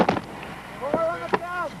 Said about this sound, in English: Explosion 3.